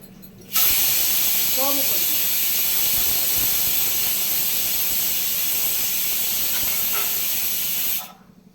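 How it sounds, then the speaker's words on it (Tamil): Onions sizzle in a pan for intestine curry, a loud steady hiss that starts abruptly and runs nearly the whole time before cutting off, with faint clinks in the background. "குடல் குழம்புக்கு வெங்காயம் வதக்கிக்கலாம்"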